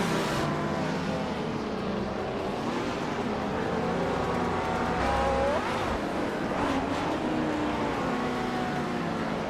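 Race cars in a racing video game roar continuously with high engine whine, steady loud drone throughout and occasional rising pitch sweeps as cars pass and shift.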